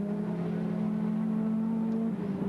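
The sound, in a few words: Holden Commodore race car engine accelerating at Bathurst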